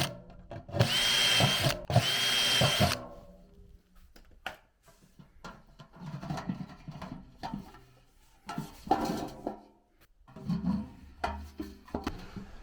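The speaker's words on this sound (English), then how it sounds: "I'm just going to drill the same holes in the second pot." A power drill bores holes in a metal pot on a plant stand: two loud, whining bursts of drilling up front, followed by scattered clanks and handling knocks of the pot.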